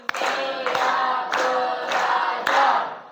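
A classroom of students claps a call-and-response rhythm together, several crisp group claps in quick succession, loud and close indoors.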